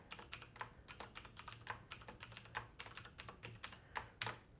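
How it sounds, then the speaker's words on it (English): A password tapped out on a computer keyboard while connecting to a WiFi access point, a quick, close run of about two dozen crisp keystrokes in an irregular rhythm, faint overall and with no voices. "type in the password, which comes in as hidden characters"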